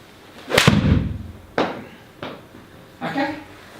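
A PING G400 7-iron strikes a golf ball outdoors with a sharp, loud crack, followed by a few softer thuds and faint talk.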